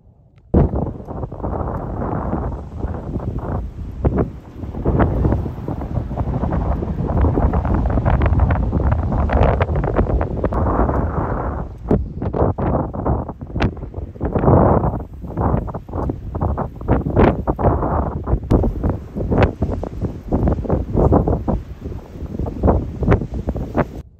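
Strong wind buffets the microphone at a windswept beach, with loud, gusty low rumbles and bursts that rise and fall throughout, no voices audible.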